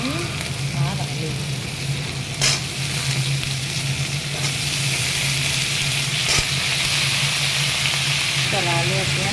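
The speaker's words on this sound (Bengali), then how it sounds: "চলো আলু আর পেঁয়াজটা একসাথে ভেজে করে ভালো করে লাল করে" Potatoes and onions frying together in a pan, with bay leaf, in a home kitchen: a continuous loud sizzle with occasional stirring clatters and a faint steady hum behind it.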